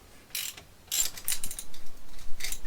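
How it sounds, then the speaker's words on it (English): A 1/4 inch Allen key loosens the handlebar head clamp bolts on a Harley Davidson Sport Glide, giving several short, close metallic ratcheting clicks in irregular bursts, with no talking. "just loosen the head clamp bolts. And you're going to need a 1/4 inch Allen key for that"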